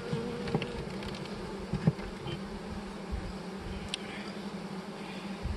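A dense, continuous buzzing of many honey bees close by as a bee package is installed in a Langstroth long hive, with a few sharper clicks and bumps scattered through it.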